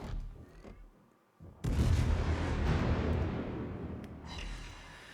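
Heavy naval gun salvo from a warship in World of Warships, a sudden loud booming blast that rolls on and slowly decays over several seconds, with a fainter earlier shot before it.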